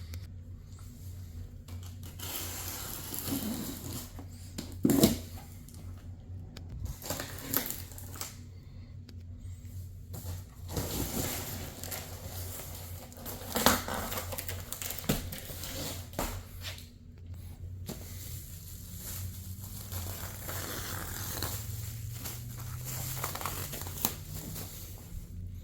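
Cardboard and plastic packaging around flat-packed RTA kitchen cabinet parts is slit open and pulled apart, giving faint crinkling, tearing and rustling with a few sharper snaps at irregular intervals.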